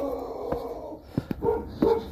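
Dog barking early in the morning, a few short sharp barks and yips spaced apart, fairly close over a low background rumble.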